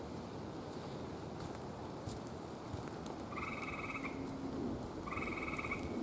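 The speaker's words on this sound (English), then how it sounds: "Gray tree frogs." Gray tree frogs trill from high in wet woods during a rainy walk, two steady musical bursts a few seconds apart. The calls are moderately distant over a constant hiss of rain.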